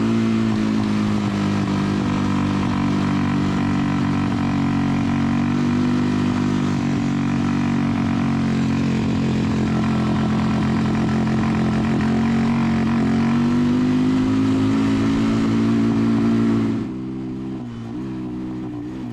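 A Yamaha Warrior 350 ATV on a trail revs in a loud, steady drone that rises and falls with the throttle. It drops away abruptly near the end.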